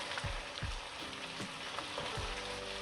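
Lamb being stirred in a pot with red chilli powder, salt and nihari masala: a steady sizzle with soft rhythmic scrapes and turns of the meat, at moderate volume and with no one talking.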